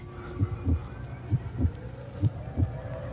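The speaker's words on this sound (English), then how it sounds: "Listen. It's the heartbeat." A slow, steady heartbeat sound effect from a gothic soap opera thumps in regular paired beats, low and close over a faint hum.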